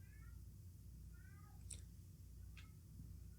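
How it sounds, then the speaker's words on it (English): A domestic cat gives a few short, faint meows from a distance over a quiet, humming room background, with no talking. "that's my cat"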